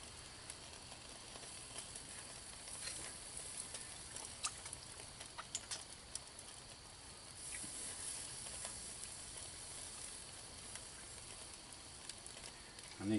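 Rabbit cooking on a backyard barbecue grill gives a steady, faint sizzle and hiss throughout, with a few small pops and crackles and no talking.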